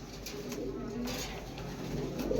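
Pigeons in a Bengali pigeon seller's loft, including charera and fancy breeds, coo softly and continuously under a steady ambient hum, with faint chatter in the background.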